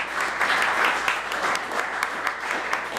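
An audience at a rural opportunity listening session with Senator Peter Welch gives a steady round of applause, a dense wash of clapping that carries on without a break and is heard alone at moderate loudness.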